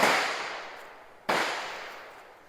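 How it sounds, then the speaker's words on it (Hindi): Two sharp gunshots from firearms at a shooting range, each a loud crack with a long decaying ring, about a second apart, with no talking. "मज़ा आ गया भाई गोलियाँ चला के"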